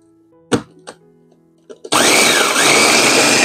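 A blender grinds fish meat with a clove of garlic for pempek, starting after a few clunks of ingredients going in, then roaring loud and steady until the end.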